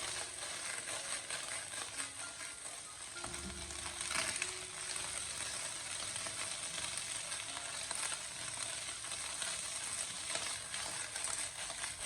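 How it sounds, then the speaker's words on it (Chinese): Garlic scapes stir-fried over high heat in a wok, an even hissing sizzle with a brief clatter of tossing midway, fairly faint and steady with no talk. "油热以后再把蒜苔放进锅里面，将火候改为大火，进行快速的翻炒"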